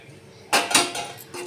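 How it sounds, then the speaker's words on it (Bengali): Marinated goat meat dropped onto vegetables in a pan, a sudden close clatter and thud followed by a short rustling sizzle and another knock at the end, loud and without talk. "ম্যারিনেট করা পাঁঠার মাংসগুলো এবার দিয়ে দেব সব সবজি"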